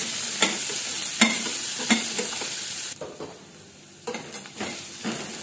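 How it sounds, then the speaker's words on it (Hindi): Chopped onions softening in a hot pan keep up a steady sizzle, broken by regular scraping strokes of a spatula about every second. There is a brief quieter stretch midway, then the stirring picks up again, close and clear, with no talk. "ओनियन को थोड़ा सॉफ्ट हो जाए इतना भूनना है।"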